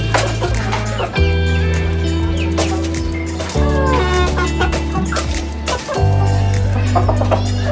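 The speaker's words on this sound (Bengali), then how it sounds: "এটা হলো হাঁসলি মুরগি।" A hansli chicken clucks repeatedly at close range in a loud, rhythmic series of calls, with other fowl noises mixed into the background.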